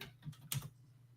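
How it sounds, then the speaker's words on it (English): Typing on a computer keyboard at a desk setup with two keyboards, a short burst of quiet key clicks over a low steady hum, with no talking. "Oh my God, I'm typing on the wrong keyboard."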